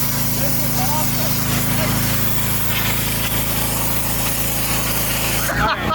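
A pressure washer hose sprays outdoors during a destroyed supercar rebuild, making a loud, continuous hiss and roar with an engine drone beneath, cutting off abruptly near the end; people talk over it.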